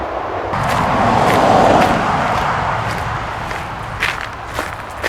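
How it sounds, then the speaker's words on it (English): Steady highway traffic roars overhead and all around from inside a tunnel under the highway, a continuous broadband wash. Near the end there are a few faint knocks or footsteps. "You can hear the highway noise in the background."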